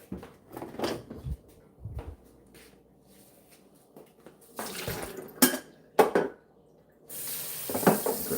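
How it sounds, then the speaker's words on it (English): Water runs from a kitchen tap into a coffee pot, a hissing rush in the last second after a string of clattering dish, lid and drawer knocks nearby, with no talking. "start by putting water in that pot there"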